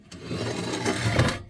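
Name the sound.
sanding body filler on a car air cleaner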